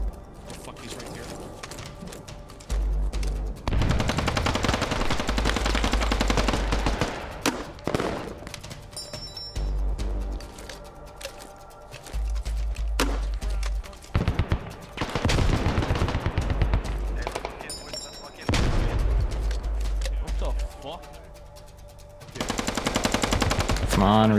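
Bursts of automatic gunfire in a video game repeat loudly across the whole stretch, some long and dense and others shorter, while players talk over the fire.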